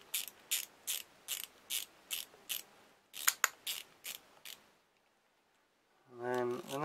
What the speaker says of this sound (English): So we're going to tighten that up. And that's gone through one side.